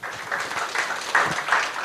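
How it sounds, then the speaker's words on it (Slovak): An audience at a high school beauty pageant final night applauding, a soft, distant wash of many hands clapping with swelling bursts and no voices. "Myslím, že si zaslúžia veľký potlesk."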